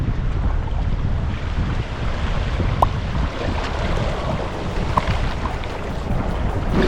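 Sea waves surging up a shore and washing over bare feet, a steady loud rush of surf and water churning close by under gusty wind buffeting, with no talking.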